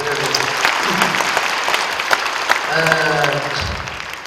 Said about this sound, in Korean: 유튜브 성도들 온라인으로 함께 하신 분들 박수 좀 하십시다